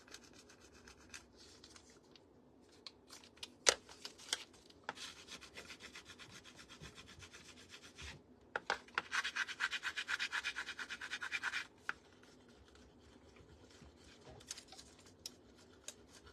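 A transfer is rubbed hard onto the wood of a cigar box, giving soft, scratchy friction strokes in irregular bursts, with a denser stretch of steady rubbing midway; close and quiet, with no talking.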